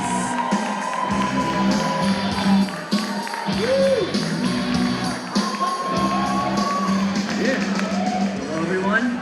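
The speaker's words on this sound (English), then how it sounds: "with a huge ACF Ontario round of applause, let's welcome up the Hover Brothers!" A comedy show audience cheers and whoops to welcome a comedy duo on stage, with crowd noise and shouts in waves, while voices carry over the top.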